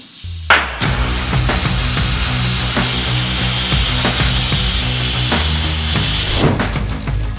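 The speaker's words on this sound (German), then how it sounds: "Genau, hier bin ich gerade am Schneidbrennen. Ich trenne halt das Teil in zwei" An oxy-fuel cutting torch slices a metal part in two in an industrial mechanic training workshop, a steady loud roaring hiss with crackling spatter and scattered sharp clicks, starting abruptly and continuing for several seconds without talk.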